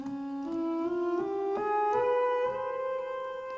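Melody in the Baluchi Salat scale, a sustained bright tone stepping up through close, small intervals in a steady legato line, with rich overtones and no pauses, heard alone without talk.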